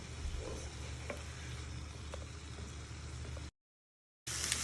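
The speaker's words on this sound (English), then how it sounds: "These are raw prawns, so it will need cooking." Raw prawns frying in a pan, a steady soft sizzle with faint stirring clicks, briefly cut to silence before resuming louder.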